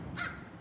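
A crow gives a single short caw outdoors, fairly near and clear against quiet background noise.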